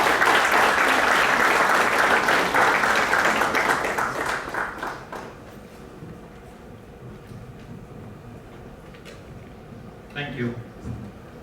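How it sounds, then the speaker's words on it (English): Loud audience applause for a panel at a digital transformation conclave fills the first few seconds, then fades away, leaving a quiet room with a brief murmur of a voice near the end. "Please give a warm round of applause for our esteemed panelists."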